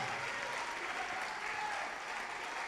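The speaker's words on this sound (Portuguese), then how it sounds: "Vamos aplaudir mais," Church congregation applauding during a Renovo Hoje service, a dense, continuous wash of clapping from a large crowd, steady and fairly loud throughout.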